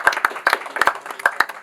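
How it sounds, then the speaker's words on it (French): A small group clapping at a shop launch ceremony in Mali, sparse distinct hand claps in an uneven rhythm, fairly close and moderately quiet. "Applaudissez pour Falilou Couture également"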